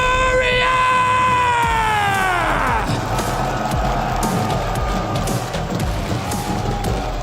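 A packed esports arena crowd at a CS2 tournament roars and yells for team Furia, a sustained loud wall of cheering and whoops following a fading drawn-out shout, with no clear talk.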